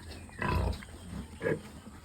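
A sow gives short grunts during a parvo vaccine booster injection on a pig farm: two brief low bursts, close and moderately loud, with quiet pen noise between them.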